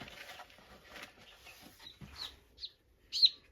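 A few small, high chirps and peeps from baby chicks near the end, with soft rustling and handling noises in a quiet room with a brooder heater before them.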